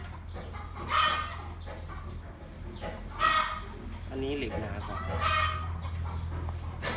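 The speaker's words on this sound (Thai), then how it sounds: "เดี๋ยวเสียงไก่" Chickens cluck and squawk in short bursts about every two seconds, moderately close, while someone talks quietly nearby over a low background hum.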